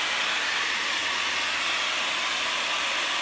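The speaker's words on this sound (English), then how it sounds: "Sorry for the blow dryer noise." Steady, loud whoosh of a blow dryer aimed at paint on a wooden surface, running continuously up close with an airy hiss and no speech.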